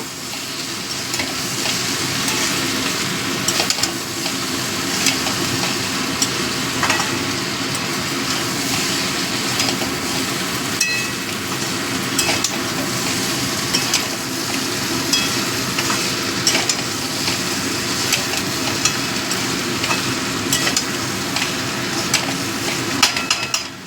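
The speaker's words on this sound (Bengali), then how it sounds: "হলুদ গুঁড়োটা দিয়ে একটু ভেজে নেব" Potatoes frying with turmeric powder, green chillies and black cumin in a pan, giving a dense, continuous sizzle with frequent scraping and clinking stirs throughout, close and fairly loud, with no speech.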